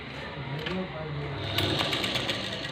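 A sewing machine runs steadily while stitching a long folded waistband strip for a blouse, its rapid mechanical whir continuous throughout, with someone talking over it.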